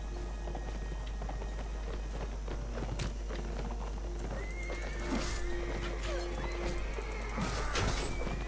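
Horses neigh and whinny in the Mount & Blade Warband video game, shrill calls rising over clattering hooves and battle noise, clearer in the second half.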